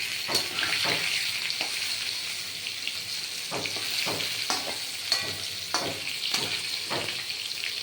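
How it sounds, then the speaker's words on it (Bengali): Pointed gourd (potol) frying in a pan until reddish, a continuous sizzle broken by repeated clattering stirs of a spatula, with no talking. "লাল করেই ভাজা হবে হ্যাঁ"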